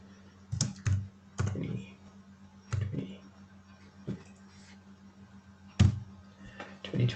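Computer keyboard typing comes in short irregular bursts of clicky keystrokes with pauses between, close and fairly quiet indoors.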